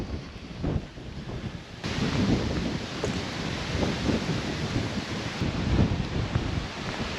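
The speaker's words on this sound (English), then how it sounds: "It's a windy day" Strong wind buffets the microphone outdoors near Avebury in heavy, rumbling gusts, loud and continuous, with no voices.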